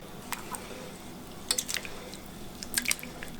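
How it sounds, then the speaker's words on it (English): Rice is being washed in water to rinse off its starch, making soft wet swishing and dripping sounds. Faint sharp splashes come in small clusters over a quiet background. "You need to wash the rice to get rid of the starch"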